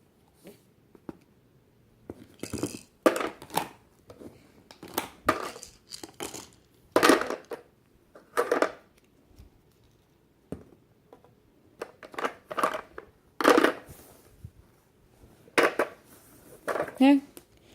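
A child handles plastic toy rings, making scattered clacks and rattles in short bursts between quiet pauses, with an adult talking softly in between.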